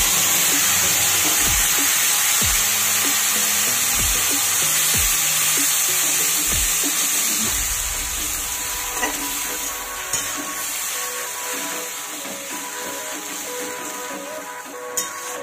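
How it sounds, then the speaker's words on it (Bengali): Tomato, onion and green chili paste frying in hot oil in a pan, giving a loud steady sizzle with several low thumps of stirring early on, and the hiss easing slightly toward the end. "আমি এই পর্যায়ে দিয়ে দেব টমেটো, পেঁয়াজ আর কাঁচা লঙ্কার পেস্টটা"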